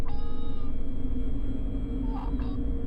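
A teenage boy makes high, wavering baby-like mewling cries over a dense low background drone, with a couple of brief higher squeaks near the end.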